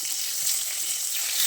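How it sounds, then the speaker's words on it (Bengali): Eggplant slices frying in a pan give off a steady, close, bright sizzle that holds evenly throughout with no voices. "বেগুনের এক সাইড ভালোভাবে ভাজা হয়ে গেলে বেগুনগুলোকে উল্টে দিচ্ছি"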